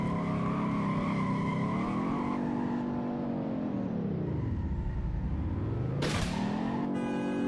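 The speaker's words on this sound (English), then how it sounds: "It's got a smooth little sound to it. And that engine does sound a little beefy." Car engine in the Roblox game Greenville, a steady synthetic drone that rises, dips low and climbs again, with a sharp bright burst near the end, heard alone.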